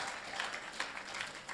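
Audience at an entrepreneurship festival opening conference applauding, a short, fairly faint patter of clapping that fills the moment evenly.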